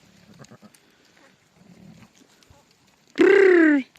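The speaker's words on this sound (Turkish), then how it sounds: "bir tane koyun doğurmuş arkadaşlar" On a farm where a sheep has just given birth to a lamb, quiet shuffling and soft knocks give way to a single loud, close bleat lasting under a second.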